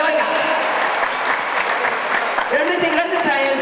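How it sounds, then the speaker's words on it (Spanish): Loud, dense applause from an audience, steady throughout with a few cheers rising near the end. "Duarte y su hermosa mujer Bertita de Duarte, al cual pido un aplauso muy fuerte, por favor."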